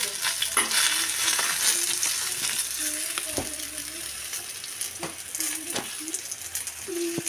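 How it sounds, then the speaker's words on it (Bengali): Cabbage, beans and potatoes fry in a pan with salt added, sizzling steadily while a utensil stirs them, giving scraping clinks in an irregular rhythm close by. "লবণটা দিয়ে আবারও কিছুটা নাড়াচাড়া করতে হবে।"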